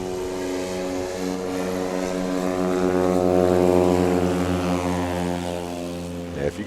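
A Husky STOL airplane's engine starts at a mountain competition in Pinedale, Wyoming, its propeller drone swelling steadily into a loud, close, sustained tonal roar that holds for several seconds before a brief clunk near the end.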